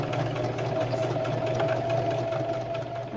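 A sewing machine back tacks a quarter-inch seam on a Christmas stocking, giving a steady, close motor hum with no breaks across the whole stretch.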